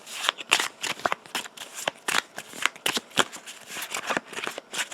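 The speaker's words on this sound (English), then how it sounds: "Sorry, I'm shuffling away here." A deck of cards shuffled during a co-op Hero Realms card game, with close, rapid riffles and snapping bursts of card edges in an uneven rhythm, heard alone without talk.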